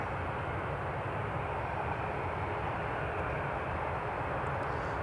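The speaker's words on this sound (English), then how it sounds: "So there's Logan Air taxiing." A Logan Air aircraft taxiing at Newcastle International Airport gives off a steady, even roar of engine noise that holds at one level throughout, with no voices.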